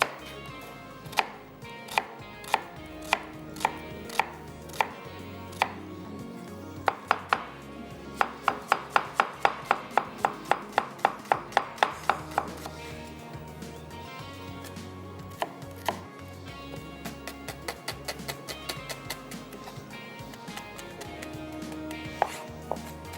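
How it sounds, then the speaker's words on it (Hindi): An onion is chopped on a cutting board with a knife, in a long series of crisp, close knocks that speed into a rapid burst, slow down, then pick up again near the end, with no talking. "1 अदद प्याज है, इसको करते हैं चॉप।"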